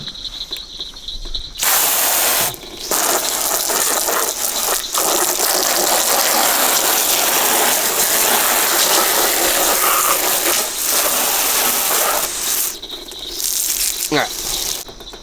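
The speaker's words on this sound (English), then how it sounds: "So if you ever have sticky things, it's always good to have a road shower." Water sprays hard from the hose nozzle of a camping road shower at a campsite in Ocala National Forest, a loud continuous gushing hiss in long bursts with short breaks.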